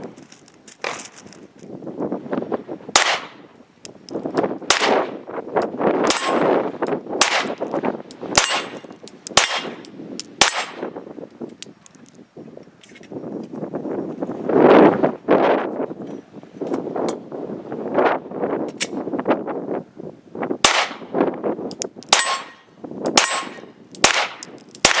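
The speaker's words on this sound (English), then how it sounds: "He's going to do 2 magazines of the IMI 9mm 115 grain die cut hollow points at the steel 10 yards away." A Glock 43 fires two magazines of IMI 9mm 115-grain die-cut hollow points at a steel target 10 yards away, producing a rapid string of sharp shots, each followed by a bright metallic clang and ring.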